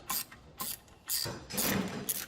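A 13mm spanner working a loose bolt on a hauling bracket cowling, giving several short metallic ratcheting clicks and scrapes in irregular bursts, close and fairly quiet.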